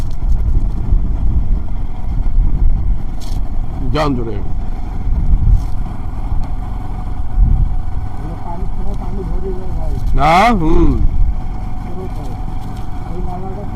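Riding a motorbike across Haripur bridge, with heavy wind buffeting the microphone over a low, steady engine rumble throughout; a few brief spoken words come through the noise.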